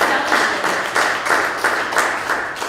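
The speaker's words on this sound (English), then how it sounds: "give yourselves a round of applause" Applause from a student audience at a college voter awareness event, a steady wash of hand claps with soft rhythmic swells, moderately loud and close, with no talking over it.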